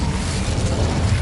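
An Incendio fire spell goes off in Hogwarts Legacy on PS5 as a short, loud, rumbling burst of flame. It is dense and full, with no pause through the brief moment.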